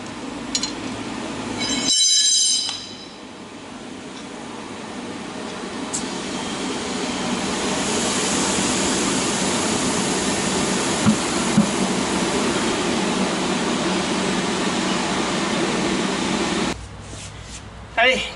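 Air hisses steadily into the inner tube of a Citroën Traction 11B rear wheel, a continuous broadband rush lasting most of the stretch, bracketed by brief clatters at the start and end.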